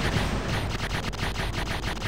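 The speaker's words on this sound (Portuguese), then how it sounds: "Com o botão A, atiramos o shot, single shot," A spaceship in the Xbox shooter Aces of the Galaxy fires its single-shot weapon in a rapid, steady stream of blasts under dense arcade noise and music, loud and continuous with no talk.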